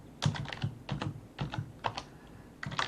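Keystrokes on a computer keyboard in a Linux terminal come in short bursts of separate, close, clear clicks with brief pauses between groups.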